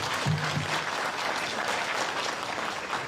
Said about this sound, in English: So please join me in offering them a round of applause.